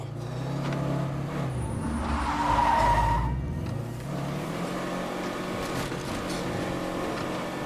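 A car in State of Decay 2 revs and skids, its engine droning loud and steady with a sharp tire squeal rising near the middle before the motor settles back into a sustained drive.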